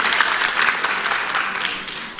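An audience applauds the jury at a Jawa Tengah provincial quiz contest on the MPR RI four pillars, dense steady clapping from a crowded hall that holds even throughout and eases only slightly near the end.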